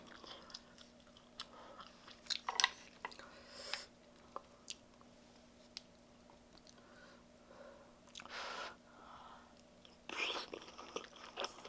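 Close, quiet chewing of kimchi fried rice with egg, squid and bacon, topped with mozzarella: soft irregular bites and crunches spread through the stretch, with a few brief louder smacks and no talking.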